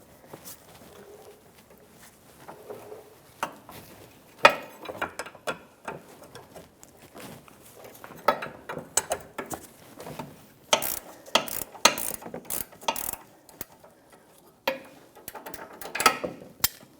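Wrench and ratchet breaking free the tie rod nut on a 2009-2014 Nissan Maxima during a front lower control arm job, with scattered metallic clicks, ratcheting bursts and clanks, louder toward the end.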